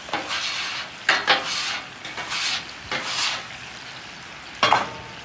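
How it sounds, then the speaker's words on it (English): A metal scraper pushing cooked teriyaki steak residue off a hot griddle in short, rasping strokes over a steady sizzle, with several sharp scrapes spaced irregularly and no talking. "is scrape everything off of it"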